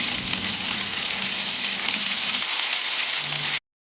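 Onions frying in oil in a pan sizzle with a dense, steady crackle for several seconds, then stop abruptly.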